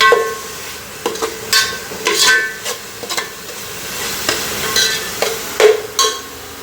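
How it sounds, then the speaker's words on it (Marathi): Pulao being stirred in a pan after turmeric goes in, with repeated scraping strokes of a spoon against the pan over a soft steady sizzle, close up and without speech. "सो आतां ती हल्दी घाल ती बरी मिक्स करूया."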